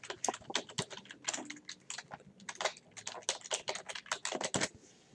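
Quick bursts of keystrokes on a computer keyboard as an email address is entered, close and crisp with irregular rhythm and short pauses between clusters, no talking.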